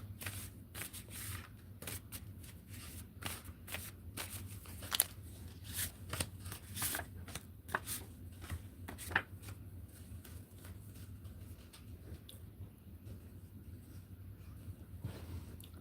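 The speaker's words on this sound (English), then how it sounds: "I'm just doing a pre-shuffle right now" Tarot cards are riffled and flicked in quick bursts of crisp papery snaps, close and fairly quiet, with short pauses between shuffles.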